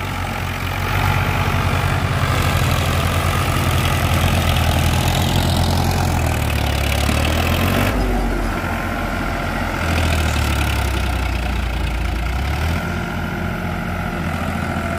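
A Swaraj tractor engine, compared as an 855 against a 45 model with a fitted truck clutch plate, runs steadily with a loud, deep low rumble and shifting load, heard alone without talk.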